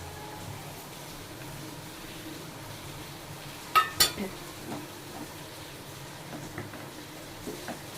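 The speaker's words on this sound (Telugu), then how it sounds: "ఇప్పుడు పన్నీర్ ముక్కలు వేసేసుకుందాం" Paneer pieces drop into curry in a pan and get stirred, giving a couple of sharp metallic clinks followed by softer scrapes and faint sizzling, close and fairly quiet.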